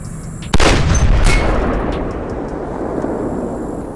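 A single loud, close gunshot cracks out in the mobile shooting game Sierra 7 as a mirror is shot. A long reverberant tail fades over the next few seconds.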